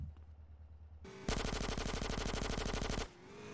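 Machine-gun fire in GTA San Andreas: after a low rumbling lull, a loud, rapid, evenly spaced burst of automatic shots runs for about two seconds, then cuts off abruptly.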